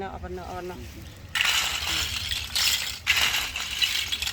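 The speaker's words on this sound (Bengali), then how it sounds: "দর্শক এগুলো কি উঠাচ্ছে জানেন এগুলো হচ্ছে শামুক শামুক এই শামুক দিয়ে চুন তৈরি করা হয়" Snail shells are scooped and picked up by hand in wet surroundings, giving loose rattling, clinking bursts with watery sloshing, loud and close, after a quieter opening with faint voices.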